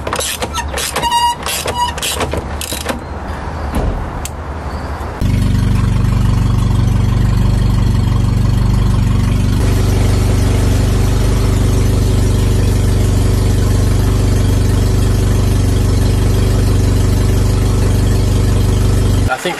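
A Toyota 4AGE car engine idles steadily with a low, even rumble, preceded by a few seconds of brief clattering and squealing sounds.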